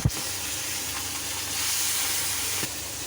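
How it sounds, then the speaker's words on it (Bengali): Pomfret fish frying in hot oil, a steady close sizzle that hisses throughout with a brief clatter at the start and another near the end. "তার জন্য আমি পমফ্রেট মাছগুলোকে ভাজতে দিচ্ছি।"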